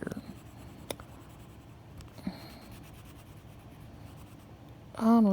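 A coloring pencil scratches across paper up close, giving a soft continuous scribbling with a few sharper taps. A short voiced sound comes at the end.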